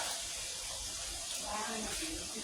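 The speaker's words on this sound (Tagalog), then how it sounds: "ilagay natin itong isang pinaka-tubig ng gata" Thin coconut milk poured into a cooking pot for a crab and shrimp stew, a steady soft liquid splashing and hiss, fairly quiet, with faint talking underneath.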